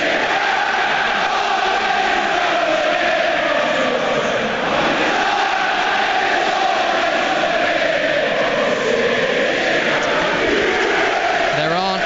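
Nottingham Forest fans fill a football stadium with singing before a Premier League match against Manchester United, a massed crowd song held steadily from a distance, broad and continuous without breaks.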